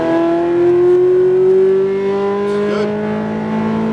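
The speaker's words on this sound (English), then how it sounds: "Now we're ready to accelerate out of the corner." Ferrari F430 accelerating hard out of a corner on a racetrack, its engine note climbing steadily in a loud, continuous rising whine with a slight dip near the end.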